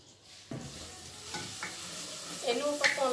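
Ginger, garlic and green chillies dropped into hot oil in a clay pot, a sudden burst of sizzling that settles into a steady crackle with stirring scrapes and louder spits toward the end.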